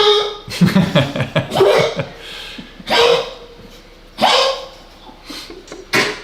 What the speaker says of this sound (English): our little puppy dog right there.